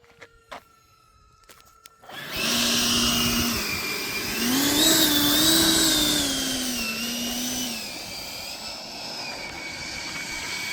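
An E-flite F-16 RC jet with a 90mm electric ducted fan roars past in flight, a loud rising and falling whine that starts abruptly after a few quiet clicks and sustains while the pitch shifts.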